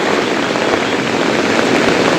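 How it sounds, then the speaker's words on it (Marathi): A swollen village river in flood rushes past, a loud continuous broadband roar of churning, gurgling water close by with no break or change, and no voices. "पाणी बघा कसं खडखळत वाहत येते"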